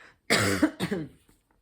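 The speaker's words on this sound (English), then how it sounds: "let me just cough" Two harsh coughs sound close and loud in a quiet room, the second shorter than the first, followed by a faint breath.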